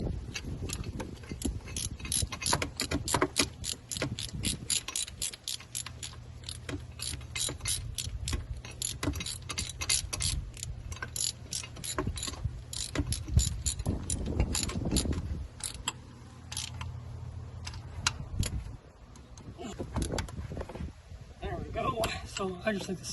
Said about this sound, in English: Now you'll get your ratchet back and you can tighten it all back up together.